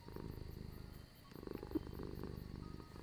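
A pet cat purrs softly in a steady, low rhythmic rumble of repeated throbbing pulses, faint and close, with no other sound over it.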